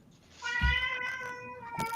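A cat lets out a single drawn-out, complaining meow with clear harmonics, fairly close, and a soft thump at the start.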